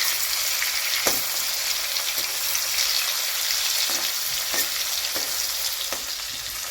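Rice-flour coated prawns frying in a pan for a chilli garlic prawn dish, a continuous close hiss of hot oil punctuated by several sharp crackles and pops as pieces are turned, with no talk.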